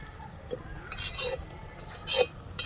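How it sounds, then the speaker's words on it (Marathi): Vegetables tipped into roasted masala in a pan in a home kitchen, with a steady stir and soft sizzle, a few light utensil taps, and a brief louder clatter and hiss near the end. "मसाला आपला भाजला आहे मस्तपैकी टाकून घेऊया भाजी"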